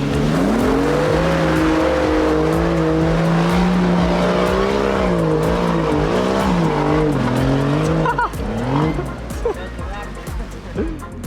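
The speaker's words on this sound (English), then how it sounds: "What a tractor. Top speed run right here." A loud tractor engine drones steadily on a top speed run, pitch rising and falling as it runs hard, then fades and roughens near the end; a voice speaks over it.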